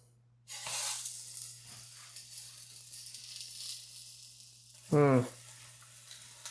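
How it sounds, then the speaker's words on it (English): Steady hiss of a wet tortilla frying in a hot pan, close up, with a brief louder sizzling burst near the end. "I hear it sizzling."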